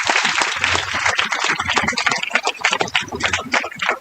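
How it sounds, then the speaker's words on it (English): Audience at an international conference bursts into sustained applause, many hands clapping densely and steadily for several seconds at close range, with no talk over it. "please give a huge round of applause"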